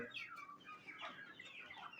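Desi chickens cluck softly in winter sunshine, a steady run of soft, close, overlapping clucks and murmurs with no voices.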